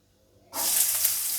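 Chopped onion drops into two to three spoons of hot oil and bursts into a sudden loud, steady sizzle after a brief quiet moment, with nothing else heard over it.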